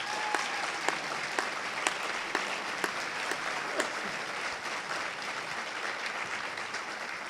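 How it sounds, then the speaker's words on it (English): An audience applauds at a youth service awards program, a steady spread of clapping with a few sharper individual claps standing out over about seven seconds, moderately distant. "That's worth applause right now."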